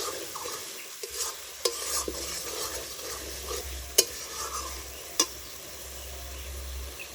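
Steady sizzling of ground spices frying in a pan for a pointed gourd and shrimp dish, with a spoon scraping and stirring through it and a few sharp clinks of utensil on metal.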